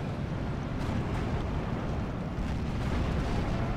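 Artillery fire support from a WW2 real-time strategy game, Steel Division 2, heard as a continuous dense rumble of distant explosions and bombardment that stays loud and steady throughout, with no voices.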